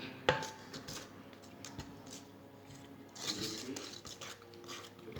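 Marble cake batter is stirred in a bowl with a utensil scraping and knocking against the sides in irregular soft strokes, close and quiet, with no talking.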